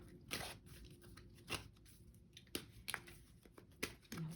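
Tarot cards are shuffled by hand, producing faint, quiet bursts of papery riffling and slapping at irregular intervals, with near-silence between them.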